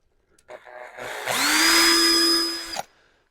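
A power drill whines up and runs steadily for about a second and a half, piloting the first hole in the roof of a Mercedes A-Class for an AMG rear spoiler, close and clear, then stops.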